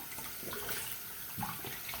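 Warm water runs steadily from a bathroom sink tap during a morning face-washing routine, a faint continuous splashing hiss with no talking.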